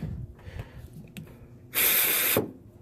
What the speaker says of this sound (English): You can use brake cleaner, or you can use carburetor cleaner.